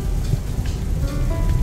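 Heavy rain drumming steadily on a parked car during car camping, a dense continuous patter close and loud with scattered heavier drops striking the roof.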